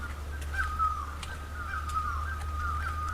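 Crows caw and other birds call around a quiet hill village at Pabung near Kalimpong, with repeated short calls at a moderate distance over a steady low background hum and no talking.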